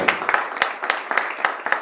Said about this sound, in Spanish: aplauso por favor para Aladino Martínez